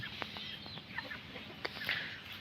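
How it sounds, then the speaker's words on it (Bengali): Several birds call outdoors, short clucking and chirping notes scattered at moderate distance over a steady background hum, with no talk. "ওইদিকে আর দুই তিনটা পাখি আছে ডাকতেছে"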